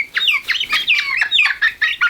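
A small flock of hens in a new shed clucks and chirps in quick, busy bursts close by, one call after another with short gaps.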